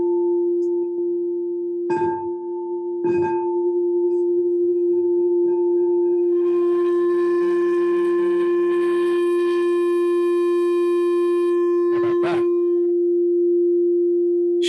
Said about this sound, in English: When you have a constant connection between the mallet and the singing bowl, it creates an even greater sound.